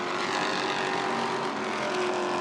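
Race trucks battle three-wide at Irwindale Speedway, their engines forming a loud, continuous roaring drone with a steady whine throughout, no voices heard.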